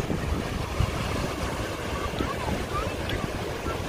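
Waves at Sitges beach in summer wash in a steady, noisy roar mixed with wind rumble on the microphone, continuous and fairly loud throughout.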